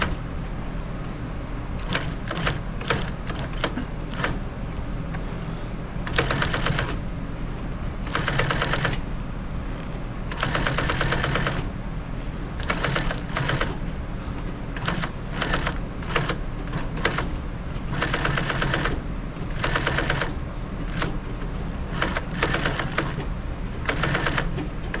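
A home sewing machine stitches through quilt fabric, the presser foot guided between chalk-marked diamond crossings. It runs in steady bursts of motor whir separated by short pauses, close and fairly loud, with no voices.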